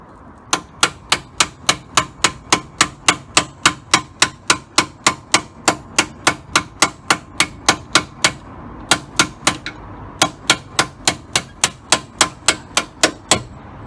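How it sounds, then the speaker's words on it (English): A hammer strikes a metal drift in rapid, steady, ringing taps, around two per second, loud and close, driving out a VW T4 front anti-roll bar bush, with one brief pause partway through. "So I'm just tapping through with the hammer and the drift."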